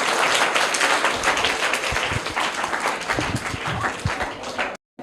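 Audience applause for a prize winner at a children's quiz event, dense steady clapping from many hands, loud and close, filling the clip before cutting off sharply near the end.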